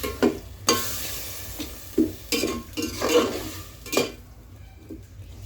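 Okra curry is stirred in a metal pot after water is added, giving repeated scraping clinks of a spoon against the pan in uneven strokes, close and moderately loud over a low background sizzle, with no talk.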